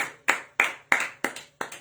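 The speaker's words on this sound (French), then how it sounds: "Applaudissons le Seigneur pour sa grâce." Worship congregation clapping in unison, five or six sharp, evenly spaced claps about a third of a second apart, fairly close and clear with no talk over them.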